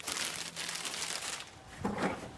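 A little plastic bag holding a rock sample crinkles as it is handled, quick close rustles and crackles through the short stretch, with a louder crunch near the end.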